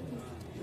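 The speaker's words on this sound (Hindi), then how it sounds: "उस्ताद ये अपना देसी कबूतर है" Desi pigeon cooing on a rooftop terrace loft, a short low murmuring coo close by with faint background noise.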